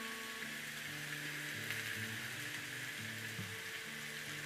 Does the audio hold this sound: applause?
no